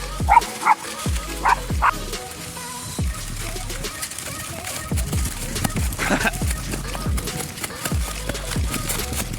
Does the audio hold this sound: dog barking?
yes